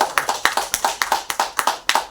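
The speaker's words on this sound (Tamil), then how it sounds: "சாகித்ய அகாடமி விருது பெற்றிருக்கிற அன்புக்குரிய மு முருகேஷ் அவர்களையும் கைத்தட்டலோடு மேடைக்கு அழைத்துக் கொடுக்கிறோம்." Sparse, rhythmic hand clapping at a poetry event welcoming an award-winning poet to the stage, about a dozen crisp, evenly spaced claps, close and clear with no talk.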